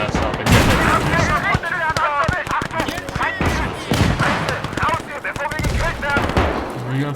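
Dense gunfire and booming tank shots fill a World War II battle in the video game Gates of Hell, rapid bursts and heavy thuds crowding together loudly while voices talk over the chaos.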